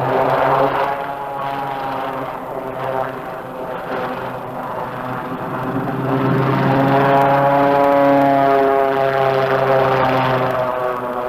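An SRN5 hovercraft from 1964 trials travels over sand and hillocks, its engine and propeller giving a steady droning hum with rising and falling harmonic tones, loud and close, swelling toward the end.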